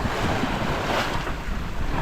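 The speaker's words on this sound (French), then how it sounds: "La mer est pas trop méchante, il y a juste quelques vaguelettes" On a sailing boat at sea in about 12 knots of wind, small waves wash steadily against the hull under a constant rush of wind buffeting the microphone.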